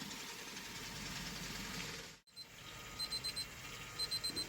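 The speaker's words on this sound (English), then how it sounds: "All right, timer's going off." A kitchen cooking timer goes off while a ribeye steak rests, its short beeps sounding in two quick bursts over a low engine-like hum from the background.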